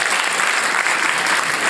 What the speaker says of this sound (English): Give the teachers a big clap.